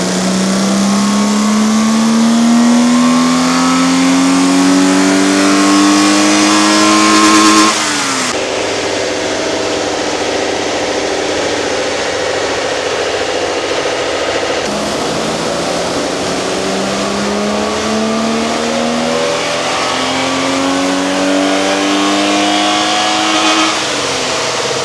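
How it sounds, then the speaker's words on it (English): A 37-year-old car on a dyno power run in South Africa, engine revving loudly and climbing steadily in pitch, cutting off sharply, then climbing again through a second long pull, close and dominant throughout. "my 37-year-old car will get a power run."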